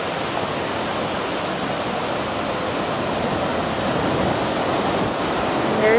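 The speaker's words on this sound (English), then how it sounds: "there's the ocean again" Ocean waves washing onto a beach near a pier, a steady broad wash of surf with wind across the microphone, continuous and fairly loud, with no talk.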